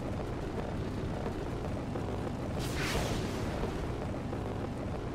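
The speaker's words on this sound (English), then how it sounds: "They got homing missiles in this game," Homing missile explosions from the Roblox game Base Battle sound as a continuous heavy rumbling roar, with one swelling, whooshing blast near the middle that fades back into the dense background.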